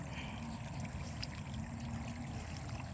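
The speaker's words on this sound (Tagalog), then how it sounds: "Maagos ang tubig." Water rushes strongly through a rice field, a steady, fairly faint gurgling flow with a constant low rumble underneath and no voices.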